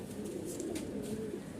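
Punjabi Malwai Tatira pigeons coo in a steady, low, throaty murmur close by, a continuous layered cooing with no pauses and no voices.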